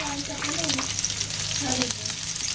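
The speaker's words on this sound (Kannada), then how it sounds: "ಉಳ್ಳಾಗಡ್ಡಿ ಸ್ವಲ್ಪ ಬ್ರೌನ್ ಕಲರ್ ಬರೋವರೆಗೂ ಫ್ರೈ ಮಾಡ್ಕೊಳ್ಳಿ" Onions frying in about four small spoons of oil for an egg curry, a close, steady crackling sizzle with brief stirring clatters and scrapes, no voices.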